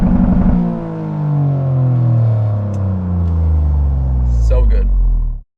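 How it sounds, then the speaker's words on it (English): Loud, close engine note from a Toyota GR Corolla fitted with an AWE aftermarket exhaust, revving and holding a steady drone for several seconds before cutting off sharply, with brief talk near the end. "This exhaust, it just sounds so good."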